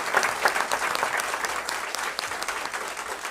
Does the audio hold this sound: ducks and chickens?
no